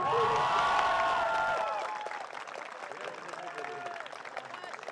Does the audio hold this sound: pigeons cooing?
no